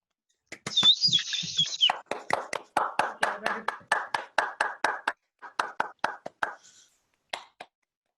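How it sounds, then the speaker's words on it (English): Scattered hand claps come from a few participants on a video call at a 2020 online disability moot, sharp separate claps in a loose, uneven rhythm, with a brief chirping tone near the start. "Right, everyone off mute, round of applause."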